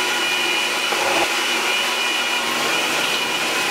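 Blender running loud and steady as it purees celery, cucumber, apple and water into a green fruit and vegetable juice, a continuous motor whine that holds even throughout with no talking.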